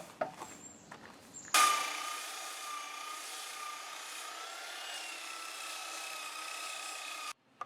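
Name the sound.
sander sanding wooden garden bench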